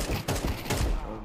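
Rapid, dense gunfire from the video game Counter-Strike 2, with overlapping shots crackling continuously for just over a second at close range and no pauses.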